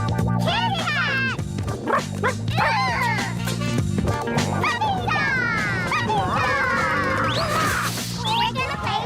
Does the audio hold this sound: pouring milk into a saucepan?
no